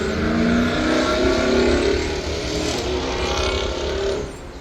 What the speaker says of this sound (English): Oh, of course it's a Mustang.